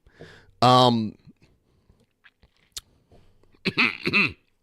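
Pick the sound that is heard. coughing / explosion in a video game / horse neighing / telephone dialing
coughing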